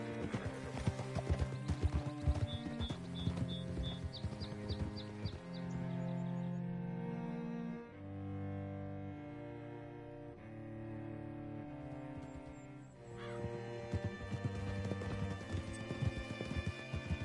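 Horse hooves clip-clop through a stretch of Red Dead Redemption 2 gameplay, a steady trot running beneath loud sustained game music for the whole stretch.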